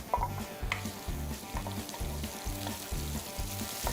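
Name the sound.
ginger and onion frying in oil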